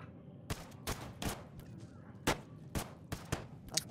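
Rifle shots ring out in the strategy game They Are Billions, about eight sharp separate cracks spaced irregularly, fairly faint over a quiet background.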